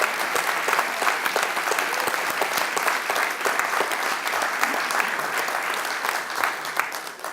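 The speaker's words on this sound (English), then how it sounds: "let's give them a big round of applause for all of these amazing Carpinterians of the Year" Banquet audience at a community awards dinner applauding steadily and loudly for honorees, a dense continuous wash of many hands clapping that holds at full strength for several seconds.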